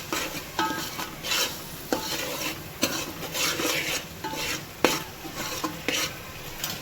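A whole-onion curry gravy cooking with garam masala gives a steady simmering sizzle, broken up by repeated scraping stirs and clinks of a spoon against the pot.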